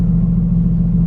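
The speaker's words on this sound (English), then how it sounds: "as we get to sport plus, you can kind of hear the change as the RPMs start higher" The engine of a 2018 Mercedes-AMG GT C Roadster, set to Sport Plus mode, gives a loud, steady, deep rumble close by with no other sound.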